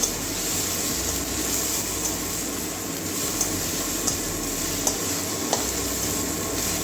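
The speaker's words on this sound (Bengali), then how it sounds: "এবারে ভালো করে মশলাটা কষিয়ে নেব" Spice paste with coriander, cumin powder and Kashmiri red chilli stirs and fries in a pan, giving a steady close sizzle with light scraping and soft periodic clicks of the spoon.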